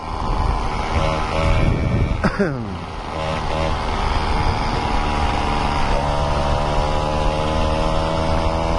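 Small two-stroke Peugeot 103Z moped engine buzzes steadily, its pitch sweeping down then climbing again as it accelerates, heard close and continuous under wind noise.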